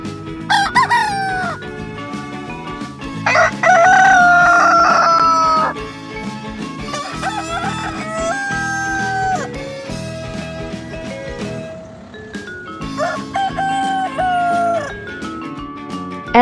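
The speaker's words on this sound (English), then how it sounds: "Rooster." A rooster crows several times in drawn-out, wavering calls, loud and near, with clucking chickens around it and no talk.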